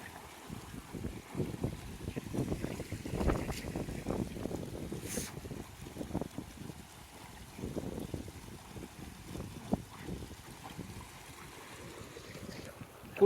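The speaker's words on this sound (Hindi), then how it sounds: "यहाँ पे भी खूब हवा चल रही है" Strong wind blows in gusts through Punakha, Bhutan, rumbling and buffeting the microphone in uneven surges for the whole stretch, with no speech.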